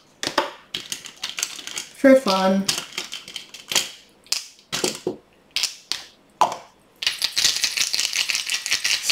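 Dice rattle in the hand and clatter onto a hard surface in several quick bursts of rattling and tumbling, with brief speech between rolls.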